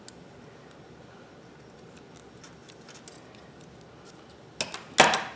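Scissors snip crochet yarn close by, a few soft clicks near the end in an otherwise quiet room, with faint ticking handling noises before and no talk.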